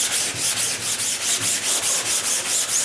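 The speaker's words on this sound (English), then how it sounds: "you sand just on the tape edges first, and then come right on into the open area" Steady hand sanding over an EkoFill filler coat, a close, loud rhythmic rubbing with even back-and-forth strokes at about four per second, heard alone.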